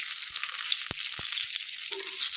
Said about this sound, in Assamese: জিৰাখিনি ফুটি একেবাৰে হৈ গৈছে